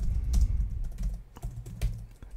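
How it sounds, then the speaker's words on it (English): Keys on a computer keyboard clatter in quick, uneven taps, close by, while someone types into a spreadsheet cell over a low background hum. "if I just start typing"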